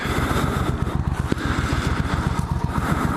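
A 1996 Suzuki VS1400 Intruder with an oil-cooled engine runs steadily at idle, its low, even pulsing throb close and loud and continuing without a break.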